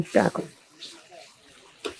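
Water is splashed into a cooking pan of mutton and beetroot fry; a brief gush is heard near and loud at the start while a voice murmurs, followed by a softer splash.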